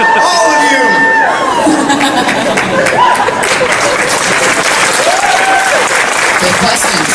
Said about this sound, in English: Now you're applauding it